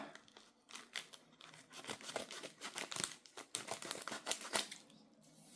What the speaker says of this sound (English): So to open up you need scissors or something sharp.